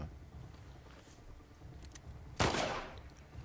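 Gunfire aimed at the player in The Last of Us Part II, a single sharp loud shot cracking out over faint background ambience, with a brief ringing tail.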